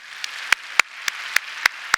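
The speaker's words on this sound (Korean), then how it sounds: "우리 사랑하는 사역자분들 박수 한번 주실래요?" Scattered, sparse hand claps ring out in a church service, six or so distinct sharp claps spaced unevenly over a couple of seconds, fairly close with a faint murmur behind.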